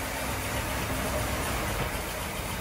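A 1939 Cadillac engine, restored after four decades apart, runs steadily in gear with a constant, even drone and no speech.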